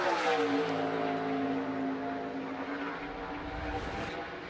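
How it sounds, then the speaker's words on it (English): A race car at speed on the track during practice or qualifying for the 2022 SRS Distribution 250, its engine roaring loud and steady before fading slightly as the car moves away. "You heard the tires squalling."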